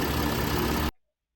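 A car engine idles with its oil cap held down, a steady close, loud hum that cuts off abruptly into silence after about a second.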